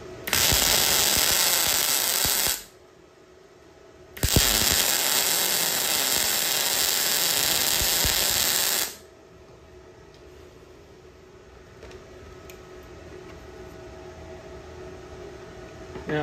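A welder cranked to its highest setting on 110-volt wall power works on metal panels in two long bursts of loud, crackling hiss, with quieter gaps between them.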